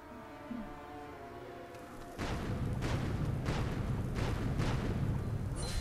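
Bomb blasts in the Lego Pirates video game: after a quiet lull, a loud burst sets in, followed by a series of booming explosions about every half-second, alone with no talk.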